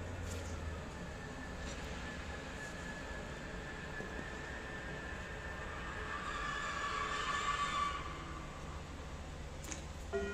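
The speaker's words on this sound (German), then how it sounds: "Vorsicht an den Türen, Ihr Zug fährt jetzt ab." A train rumbles steadily through Bremen railway station, broad low noise with a faint squeal rising midway, no talk in the foreground.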